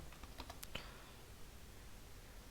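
A few quick keystrokes clatter on a computer keyboard, close and faint, spelling out a short word in a brief burst before the room falls quiet.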